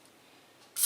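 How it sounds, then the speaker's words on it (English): Butter-flavor cooking spray hisses into a saucepan in one short, close burst at the very end, after near silence. "Butter flavor spray."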